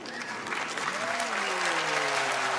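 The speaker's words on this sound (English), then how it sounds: "That was like the most wonderful round of applause from the audience" Studio audience at a televised singing competition breaks into loud, sustained applause, dense clapping with some cheering and a faint voice line running underneath.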